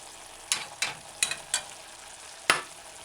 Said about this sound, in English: Stir in the ketchup, thickening the stew.